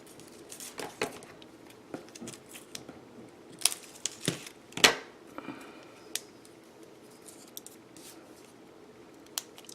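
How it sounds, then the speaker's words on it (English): Small scissors snip a piece of rickrack trim for a mini planner, giving a series of quiet, close, crisp cuts with soft paper rustling between them and no talking. "Cut a piece for this side."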